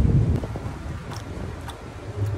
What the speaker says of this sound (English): Windy, we're blowing all over the place here